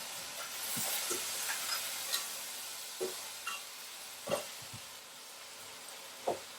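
Onion, celery and red bell pepper sizzle in a pan, a quiet, steady frying hiss broken by scattered soft pops and crackles.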